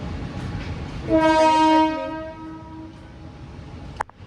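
A train horn blares loudly for about a second over rumbling rail noise, its long tone trailing off, followed by a sharp clank near the end.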